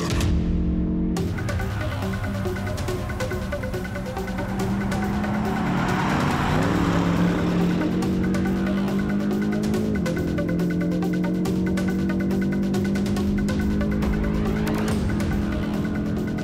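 An AC Schnitzer-tuned BMW M850i coupe with 620 PS drives a fast lap on a race track. The engine drones loud and steady, its pitch climbing and dropping through gear changes, with tires squealing through the corners.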